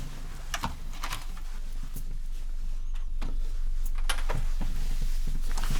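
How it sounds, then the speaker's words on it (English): A mechanical computer keyboard being cleaned and typed on, close-up: scattered sharp clicks and clacks in irregular bursts, some louder single strikes, over a faint background hiss with no talking. "I'm just going to clean your last keyboard and keep the lights off"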